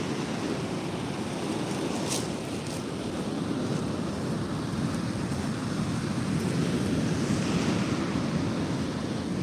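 Ocean surf rolling onto a beach during agate hunting, a loud, steady wash of breaking waves with wind buffeting the microphone throughout and no talk.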